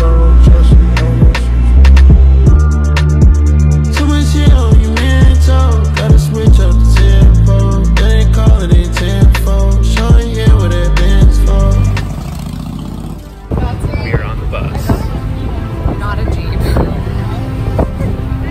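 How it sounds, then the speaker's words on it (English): A ferry's engine drones loud and steady with a heavy low rumble and wind buffeting during a 45-minute crossing in Costa Rica, with a few clicks and a shift in tone near the end. "This is a 45-minute ferry ride."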